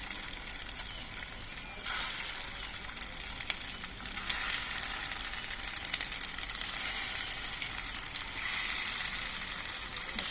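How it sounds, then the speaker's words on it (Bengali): Chicken gola kababs fry in oil with a dense, steady sizzle and crackle. The sound is close and continuous, with small surges as the pieces are turned, and no voices. "ভাজতে বেশিক্ষণ সময় লাগে না, 5 থেকে 10 মিনিট সময় হলেই হয়ে যায়।"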